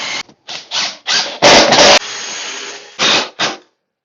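A power drill countersinks holes and drives 2-inch exterior screws into wood, sounding as a run of short, loud whirring bursts with brief pauses between them, close up and with no talk.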